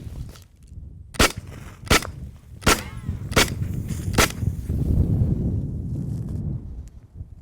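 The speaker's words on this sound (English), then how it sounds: "So let's shoot this thing." Five sharp, loud shots from a Beretta 92 FS pistol, fired at uneven intervals of under a second apart, each followed by a brief echo, with wind rumble throughout.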